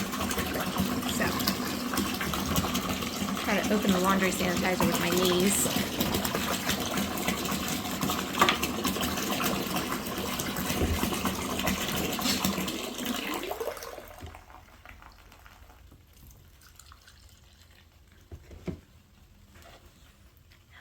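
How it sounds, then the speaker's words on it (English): Water gushes steadily into a tub for washing a dress, a loud continuous pour that stops abruptly about two-thirds through, leaving a quiet room with a speaking voice and a small knock. "We're gonna throw some more water and some laundry sanitizer in here"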